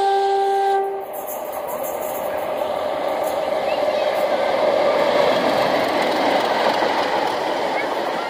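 A loud two-tone train horn sounds at the start, then a passing train fills the scene with a steady, heavy rushing roar.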